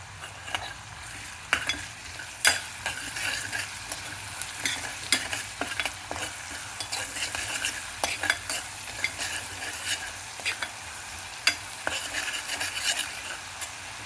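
Ginger garlic paste and chopped tomato fry in a pan for a potato and soya curry, giving a steady close sizzle with scattered stirring scrapes and clicks throughout.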